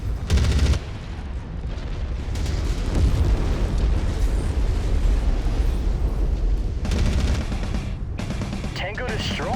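An enemy mech in MechWarrior 5 is destroyed in heavy, sustained explosive booms and rumbling blasts mixed with battle noise, loud and continuous through the whole stretch.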